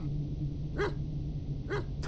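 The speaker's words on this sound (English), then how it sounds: "there's a dog trapped in there now" Two short dog barks, about a second apart, sound from inside a house in the horror game Stay Out of the House, set over a steady low ambient drone.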